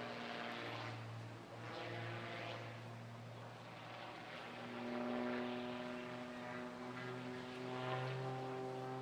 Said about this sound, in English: the Cap 230 family, an award-winning high-performance aerobatic aircraft used by pilots all over the globe in competitions and displays